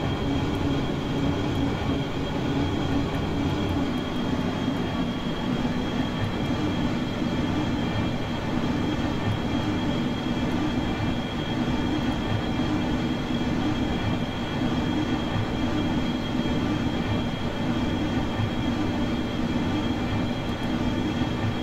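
Space shuttle liftoff in a spaceflight video game, a continuous low rumbling engine roar with a steady hiss that stays even and loud throughout, without any speech.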